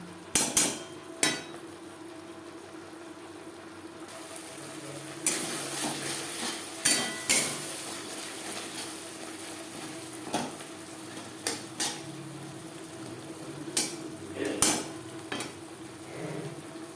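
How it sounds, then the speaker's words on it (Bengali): Spice paste for a Bengali lata fish curry with potatoes sautéing on a medium flame, sharp metal spoon scrapes and clanks against the pan recurring over a low sizzle. "মিডিয়াম ফ্লেমে তিন চার মিনিট মশলা বেশ ভালো করে কষিয়ে নেব"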